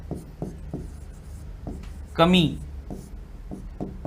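Handwriting during a nutrition lesson gives a steady series of light scratching strokes at an even pace, with a short voice sound breaking in midway.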